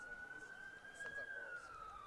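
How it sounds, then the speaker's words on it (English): An ambulance siren wails faintly in the distance during an outdoor varsity lacrosse game, a single steady rising-and-falling tone drifting under low background murmur. "You can hear the police. Oh, or I should say the ambulance."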